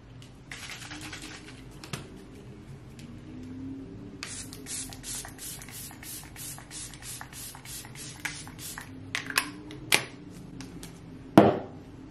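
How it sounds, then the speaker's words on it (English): Quick bursts of Rare Beauty Always an Optimist 4-in-1 setting mist sprayed onto a face, a cluster of short hissing pumps in close succession, followed by a few louder spritzes near the end. "for setting spray, as always, I'm going to be using my Rare Beauty Always an Optimist 4-in-1"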